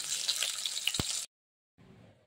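Bhola river fish frying in hot oil in a pan, a bright continuous sizzle with a single pop, then abrupt silence and a fainter sizzle resuming.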